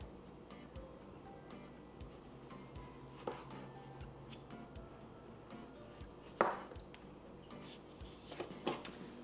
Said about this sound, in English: we've got our cucumber, and we're gonna thinly slice this